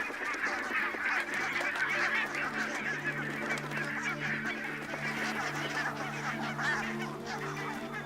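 A large flock of barnacle geese, around 50,000 birds setting off on migration, honking continuously, many overlapping calls blending into a dense, distant chorus.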